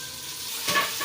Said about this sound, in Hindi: आलू को हम फ्राई करेंगे और आंच को मीडियम रखना है